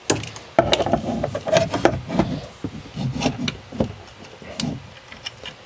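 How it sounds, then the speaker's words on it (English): Screws go back into a UTV camera screen mount with soft scrapes, light rubbing and a few small metallic clicks and taps, close by and fairly quiet. "So now we can take this guy and put these screws back."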